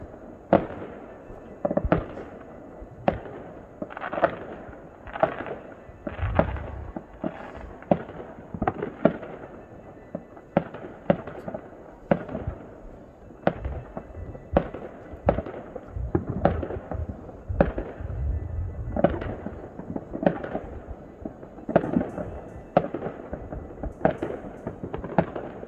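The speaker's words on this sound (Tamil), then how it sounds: "நல்லா வெடிக்க ஆரம்பிச்சிருக்காங்க." New Year midnight fireworks in the UK burst in a steady run of sharp, distant-sounding bangs and crackles spaced about a second apart, with occasional deeper rumbling booms mixed in and no talking over them.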